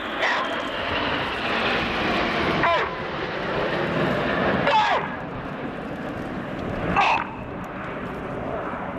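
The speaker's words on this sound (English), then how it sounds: "you'll hear them break sequentially, reds 1 through 9, 10, 11, at 2-second intervals, pulling 6G" Red Arrows BAE Hawk T1 jets performing a sequential break at the RIAT 2017 airshow, a continuous jet roar with three distinct whooshing passes spaced a couple of seconds apart, fairly distant.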